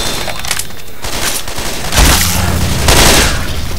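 Bomb blast and gunfire in Left 4 Dead 2 at a cemetery: a rapid volley of shots, then a heavy low explosion at about two seconds and another burst near three seconds, all loud and close.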